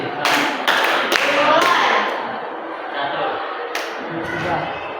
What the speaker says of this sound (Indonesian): Kalau genap, kita harus tepuk tangan